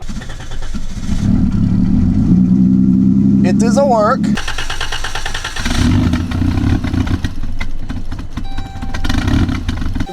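A cheap carbureted minivan engine with a new tune revs hard, its steady loud drone climbing and dropping in pitch before settling back to a rough idle, with someone talking over it.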